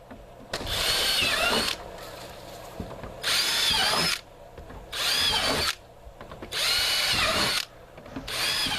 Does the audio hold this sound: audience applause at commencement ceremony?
no